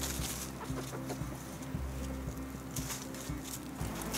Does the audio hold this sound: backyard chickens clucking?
yes